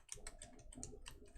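Quiet, rapid clicking of computer keys as Python code is typed in VS Code, a string of short even taps with slight irregular pauses, close and soft with no voices.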